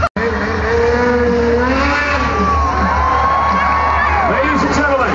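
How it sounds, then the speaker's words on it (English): A 600-pound snowmobile jumps across a ramp at an outdoor extreme stunt show at the Vancouver PNE, its engine screaming loudly and revving up and down, with crowd noise underneath. "that's a 600-pound snowmobile jumping across that ramp"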